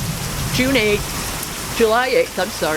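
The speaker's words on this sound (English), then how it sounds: "the rain has been hitting us" Heavy rain driven by strong wind in East Texas makes a steady broadband hiss throughout, with someone talking close over it.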